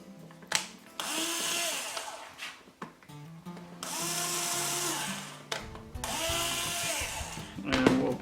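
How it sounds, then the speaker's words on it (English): A power drill with a 1/16 inch bit boring a pilot hole in a box build, three bursts of close whirring separated by short pauses. "we're going to go ahead and drill a pilot hole again."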